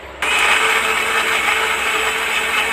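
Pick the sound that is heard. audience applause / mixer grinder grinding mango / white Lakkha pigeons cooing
mixer grinder grinding mango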